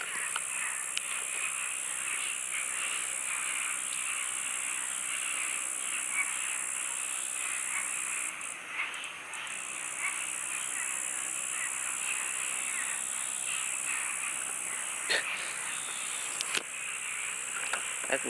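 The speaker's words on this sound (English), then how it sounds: "This is frogs right here." A dense, continuous chorus of frogs croaking at a pond fills the air, steady and moderately distant, with a few sharp clicks breaking through.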